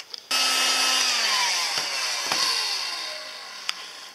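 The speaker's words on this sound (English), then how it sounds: "Hit the strings with a heat gun, okay?" A heat gun blows steadily on the stringy strands of a 3D-printed DNA lei, a loud continuous airy roar starting abruptly and running throughout with a slowly falling tone and a few sharp clicks.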